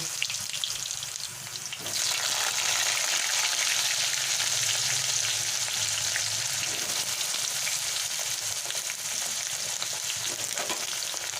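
Potatoes sizzle and crackle steadily in hot oil, quieter for a moment, then a loud, dense frying hiss that continues without a break.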